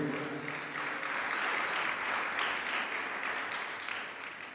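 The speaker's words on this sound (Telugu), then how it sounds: "చప్పట్లు కొట్టండి గట్టిగా." A church congregation at a special prayer meeting claps loudly and steadily, a dense sustained roar of many hands that holds for several seconds before easing slightly at the end.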